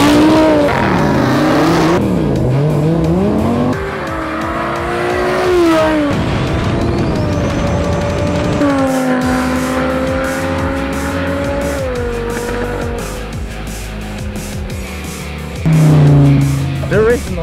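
A minivan and a car drag race side by side over 1,000 feet, their engines revving and climbing in pitch through repeated gear pulls, with brief tire squeal and people talking over the loud, continuous roar.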